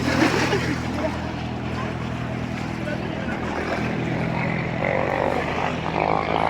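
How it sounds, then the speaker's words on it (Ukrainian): A small propeller plane takes off from Lake Como, its steady engine drone holding loud and constant. It sits under outdoor ambience and people talking nearby. "Зараз буде злітати цей літачок, набирає, набирає швидкість."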